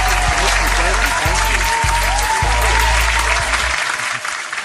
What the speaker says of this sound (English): Please help me with a round warm of applause of my guest, Mr. Jeffrey Peterson